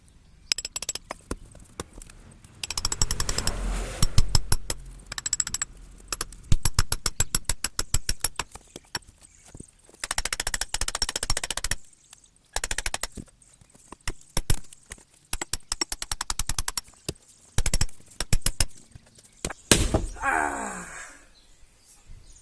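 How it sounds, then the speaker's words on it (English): An axe chopping into a rotten tree trunk outdoors: repeated sharp strikes in irregular bursts, close and fairly loud, with effortful grunts and groans between swings. "when I hit the wood, I'm fucking up the whole axe."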